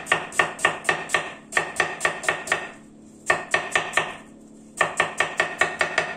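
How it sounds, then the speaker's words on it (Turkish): A knife chopping onion on a cutting board while cooking a mushroom chicken stew, quick even runs of sharp close taps separated by short pauses, with no talking. "Şöyle ikiye bölüp şu ufakta doğrayalım."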